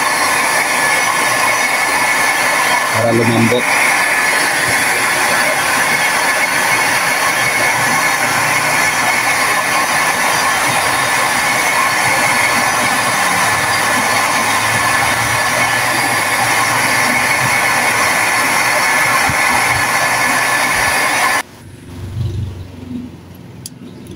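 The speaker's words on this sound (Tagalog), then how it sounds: "Meron tayong dito, hot blower" A loud, steady hot air blower roars continuously for about twenty seconds while heating parts of an Iwata air cooler under repair, then cuts off abruptly, leaving quieter handling noises.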